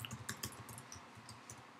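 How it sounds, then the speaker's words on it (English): Computer keyboard typing, faint and close: a quick, uneven run of light clicking keystrokes with no talk over them. "you can actually type the pipe"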